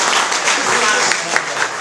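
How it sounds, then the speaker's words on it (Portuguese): An audience at a union hall gathering gives a city councillor a round of applause, a steady, dense clapping that fills the room for the whole stretch, close and loud. "uma salva de palmas, vereador"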